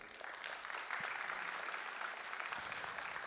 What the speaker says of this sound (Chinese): 我们给他一个热烈的掌声